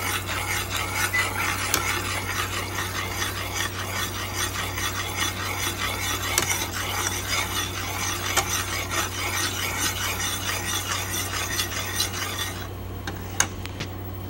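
Thick corn syrup being stirred into melted Starburst candy in a pot, a continuous scraping, rasping stir with a low steady hum underneath, close and fairly loud, with no talking.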